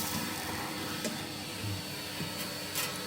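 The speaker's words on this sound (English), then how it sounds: "So always hoover underneath the tray as well." A vacuum cleaner runs steadily up close, hoovering beneath the tray of a Stovax wood-burning stove, its broadband roar constant with small bumps and knocks.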